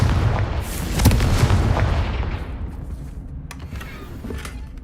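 A Confringo explosion spell going off in the Hogwarts Legacy video game, heard as a loud, booming blast with a rumbling tail that slowly fades, along with a few sharp cracks, and no speech.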